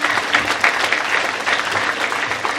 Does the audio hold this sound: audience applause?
yes